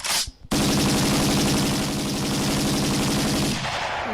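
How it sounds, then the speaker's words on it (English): Rapid automatic gunfire sound effects played on a podcast, a loud continuous burst of machine-gun shots lasting about three seconds that cuts in abruptly after a brief quiet moment and then fades out. "Give us some gunshots too."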